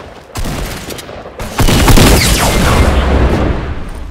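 Rocket explosions and gunfire in an online squad shooter game: two heavy blasts hit in quick succession, then sustained rattling fire and rumbling continue loudly up close, with no talking over them.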